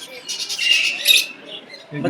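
Parrots squawk and call at Maitri Garden zoo in Chhattisgarh, a run of shrill, fairly close cries across about two seconds, ending in a lower, rougher burst.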